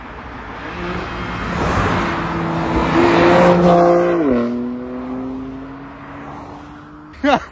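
A 2018 BMW M4 F82 Competition, 450 hp, fitted with an M Performance exhaust, roars past close by, its engine note rising then dropping in pitch as it passes, with a loud steady drone trailing off and a brief sharp burst at the end.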